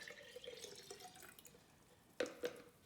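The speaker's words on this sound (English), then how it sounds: "So just gonna pour that in" Fermenting banana liquid poured into a glass ball jar makes soft trickling and dripping, with a couple of louder splashes near the end, faint and close with no talking.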